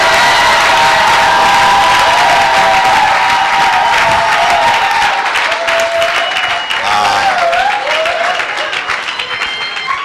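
Church congregation at a prophetic revival service breaks into sustained applause and cheering, a loud, dense wash of clapping with shouts and whoops running steadily throughout.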